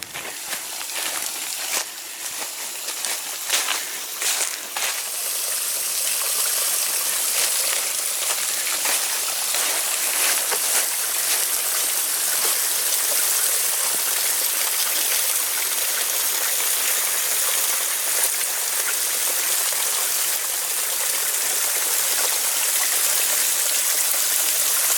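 Stream water flows steadily beside a railway trail on the E&N Railway near McLean Mill, a continuous close rushing and trickling that runs alone throughout, with a few brief knocks near the start.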